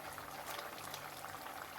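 A pot of chicken curry with ground coconut, fennel and pepper paste simmers and bubbles in a steady, soft, even hiss with no pauses.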